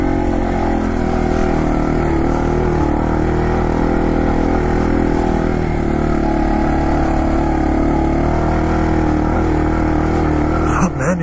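Small, slow motorbike engine held at steady high revs for the whole stretch, a loud, close, continuous buzzing drone with a slight wobble in pitch and a brief blip near the end.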